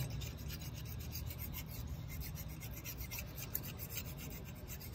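A razor blade scrapes an engine block clean on a Mitsubishi Satoh S370 tractor under restoration, a steady, continuous rasping scrape held at close range throughout with no talking.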